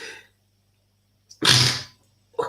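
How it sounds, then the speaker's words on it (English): A single loud, close sneeze bursts out after a quiet pause, with a faint low hum underneath and another brief noise starting at the end. "What kind of sneezing is this one now this evening?"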